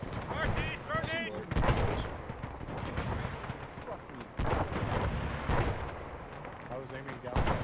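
In a war video game, a grenade bursts among sharp, repeated gunfire and artillery-like booms, with several loud impacts scattered through the passage and voices calling out in between.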